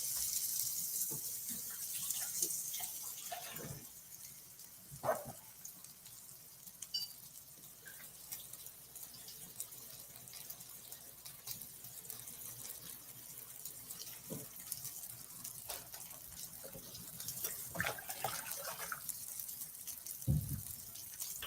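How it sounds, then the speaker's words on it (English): Running tap water flows faintly and steadily into a kitchen sink while hands are washed, with occasional soft splashes and gushes breaking through the quiet stream. "Let me wash my hands."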